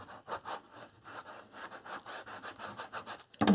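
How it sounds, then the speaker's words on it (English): Paper being burnished down onto a card album page, a quick series of soft, rhythmic rubbing strokes, close and fairly quiet, ending in a louder brief knock. "Just put it on here and burnish that down."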